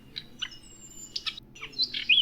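A nightingale sings a string of short, sharp chirps and whistled phrases, close and clear over quiet background, ending in a brighter trill.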